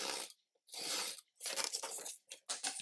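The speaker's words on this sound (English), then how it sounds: "And we will just cut this off." A trimmed piece of material is cut off in several close, crisp bursts of scissor-like snipping and tearing, separated by short silences.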